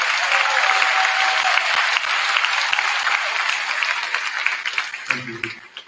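A graduation audience gives a steady round of applause for the seniors at a high school commencement. The clapping is dense and fills the hall, then thins out near the end as a voice briefly comes in.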